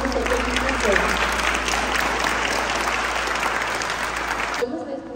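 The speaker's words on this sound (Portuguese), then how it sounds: "Uma salva de palmas ao povo do Centro de Administração." Sustained audience applause fills a school gymnasium during a student cooperative assembly, steady and dense for about five seconds before cutting off abruptly, with a low hum beneath.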